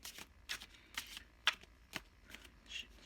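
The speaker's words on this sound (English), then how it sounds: "gonna stop talking and just start shuffling." Tarot cards being shuffled by hand, a series of soft riffling bursts repeating roughly every half second, close and fairly quiet.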